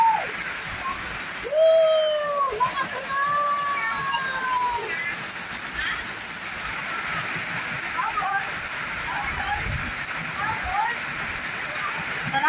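Heavy rain pours down in Bulacan, Philippines, under an orange rainfall warning, a steady wash of hiss and splatter running throughout beneath someone talking.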